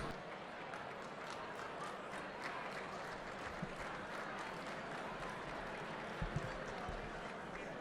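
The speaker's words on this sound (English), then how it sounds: "Thank you for that smattering of applause." Applause from an evening audience welcoming the MC at the Lincoln Leadership Prize ceremony, faint, steady, distant clapping spread across a large room.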